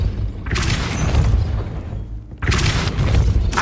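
Depulso spell cast in Hogwarts Legacy, a repelling blast heard as two loud, booming whooshes separated by a brief lull, with heavy low rumble and no speech.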